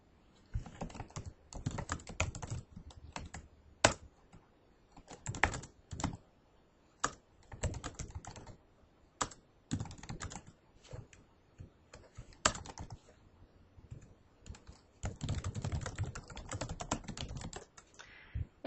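Quiet, close computer keyboard typing comes in uneven bursts of key clicks while a blog post is written, with short pauses between runs and a longer dense stretch near the end.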